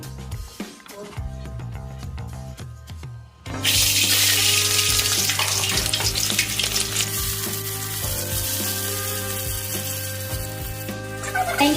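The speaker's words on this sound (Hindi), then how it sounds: "यहाँ ऑयल गर्म हो चुका है अच्छे से। अब उसमें प्याज डालेंगे" Onions hit hot oil with a sudden loud sizzle that stays steady and intense, preceded by a few seconds of quieter kitchen clatter; no one talks.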